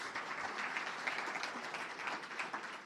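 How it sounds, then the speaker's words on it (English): An audience at a tech conference talk in Italy applauds steadily, a dense wash of clapping at moderate volume that carries on throughout without voices. "Also want to give a round of applause to Davide and everybody who put together this great event."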